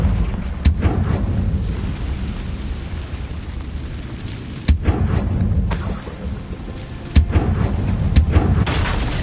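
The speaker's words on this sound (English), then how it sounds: "Confringo!" In the video game Hogwarts Legacy, a Confringo fire spell sets off loud explosions: several sharp booms about two to four seconds apart over a constant roaring rumble of blasts and debris.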